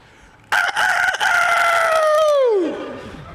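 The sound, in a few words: rooster crowing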